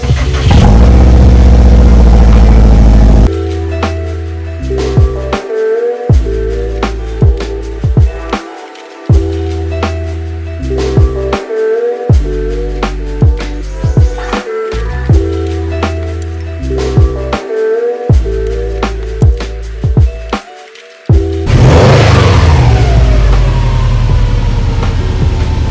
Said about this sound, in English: Start up, baby. Cold start. Let's get that cold start.